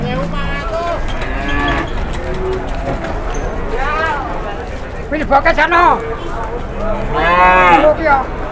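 Several small, low-priced cattle moo repeatedly, some close and loud, with drawn-out low calls overlapping; people talk briefly amid the herd noise.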